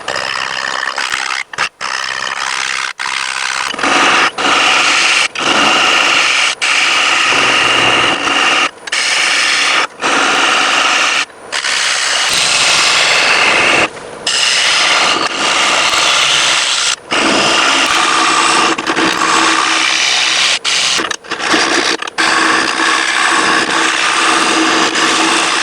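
Wood lathe hollowing out an off-center cedar bowl, a loud continuous whirring roar of gouge cutting spinning wood, close, with frequent brief dropouts and scraping shifts as the tool engages and lifts.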